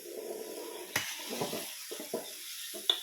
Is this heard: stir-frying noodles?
yes